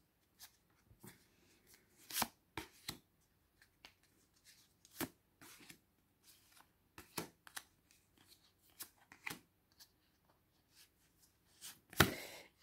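Tarot cards shuffled and dealt out for a pyramid spread, with sharp, quiet snaps and slides of cards in an irregular rhythm, close up and alone, one louder flick near the end.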